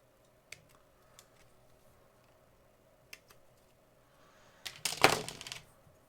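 A craft knife or scissors trims a part for a Millennium Falcon scale model, with a few sharp isolated clicks and snips, then a louder rustling, scraping burst of cutting near the end, close and quiet with no talk.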